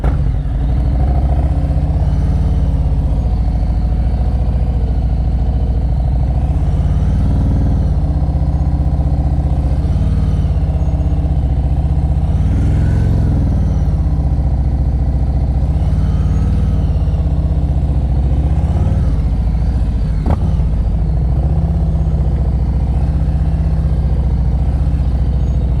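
A motorcycle moves in first gear at slow speed during advanced slow-speed riding practice in Pennsylvania, its engine a continuous low, close rumble with gentle rises and falls in revs and one sharp click near the end.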